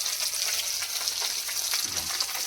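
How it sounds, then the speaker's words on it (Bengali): Fish sizzles and crackles in hot oil in a pan while cooking at a late-night picnic, a dense, steady frying hiss with faint popping throughout, close and alone without talk. "সবাই মাছ ভাজা চলছে"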